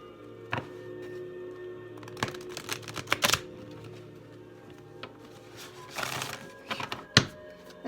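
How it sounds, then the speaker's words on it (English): A thick deck of tarot cards being shuffled, with crisp riffling bursts and sharp snaps arriving in irregular clusters over a steady low background hum. "This deck is so thick, it's always a challenge to get it nicely shuffled."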